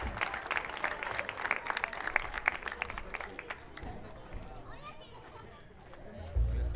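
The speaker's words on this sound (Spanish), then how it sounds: "En segunda guitarra, Alejandro Matamala, un aplauso para él, por favor." A crowd at a live show of the group Legüeros claps for the second guitarist, steady mid-distance clapping with some chatter mixed in, thinning out toward the end.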